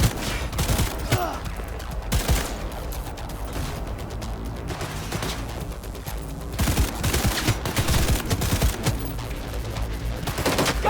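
Sustained bursts of rapid gunfire from tech and homing weapons in Cyberpunk 2077, dense and loud with brief lulls and crashing impacts throughout, continuous action with no clear talk.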